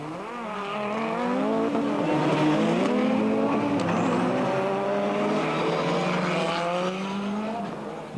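Skoda Octavia rallycross race cars roar past in a 1999 European rallycross race in France, loud, close engines revving up and down with high-pitched whine, continuous throughout and alone.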